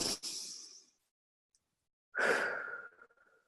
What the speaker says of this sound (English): And you can take a nice deep breath.